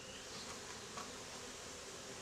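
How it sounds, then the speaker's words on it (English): Honey bees crowding a wooden beehive during a beekeeping inspection: a faint, steady hum of many wings, continuous and even throughout, with no voices. "you know there's lots of bees in here"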